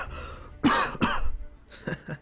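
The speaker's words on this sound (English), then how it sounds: "so I coughed" A man gives a deliberate, staged cough, heard as two sharp throaty bursts close to the mic, then a quieter pair a moment later.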